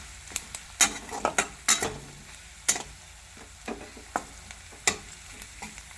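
Curry leaves frying in a pan for a potato dish, a soft background sizzle broken by sharp crackling pops and the scrape of a spoon stirring, close and uneven.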